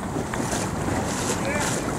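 H-boat sailboats at the race start of a Danish championship regatta off Vejle, heard as a steady roar of wind on the microphone over lapping water and surf, with faint voices underneath.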